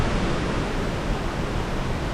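Dumbara waterfall in a steady, dense roar of falling water, loud and unbroken throughout with no voices.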